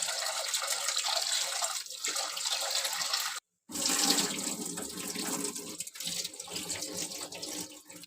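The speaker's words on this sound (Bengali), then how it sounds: "এবার ডালটা ধুয়ে নিচ্ছি ভালো করে" Lentils being rinsed in a bowl of water, with steady running-tap splashing and sloshing that fills the kitchen, interrupted by one brief silent gap before the water resumes.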